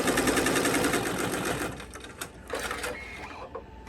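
A 15-needle embroidery machine stitches with a loud, fast mechanical chatter and whirring motor, steady at first then dropping to quieter intermittent clatters.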